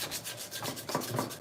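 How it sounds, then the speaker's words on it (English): Rhythmic sanding strokes rub back and forth across a knife handle as it is brought to a finish, each pass a steady close-up scratchy swish, repeating evenly with no voices. "sanding to finish"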